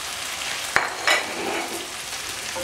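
Onion and a little garlic fry in a pan and are stirred, a constant close hiss of sizzling with a couple of sharp scraping knocks from the spoon.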